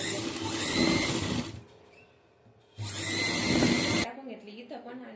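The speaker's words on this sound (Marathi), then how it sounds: "आता याच्यावरती आपण अशी शिलाई टाकून घेणार आहोत" Sewing machine stitching a prince-cut blouse, running in two steady, close bursts of whirring needle action with a short pause between them, and someone talking over the machine.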